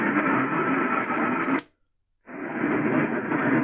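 Hissy, band-limited AM radio reception on a Sangean PR-D15 radio in the evening fills the air, cutting out to silence briefly before the static-laden broadcast returns.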